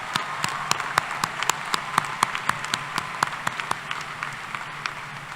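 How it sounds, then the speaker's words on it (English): Commencement audience at Texas A&M University-Corpus Christi applauding new alumni, a steady stretch of scattered claps with distinct individual hand strikes standing out over a continuous wash, moderately loud and without talk. "let's give this new alumni a round of applause"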